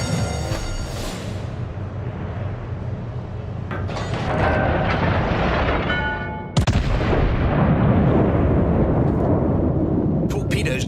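Naval warship artillery in the video game World of Warships: heavy gun booms with a sharp, loud salvo midway, over rumbling combat ambience and intermittent game voice callouts.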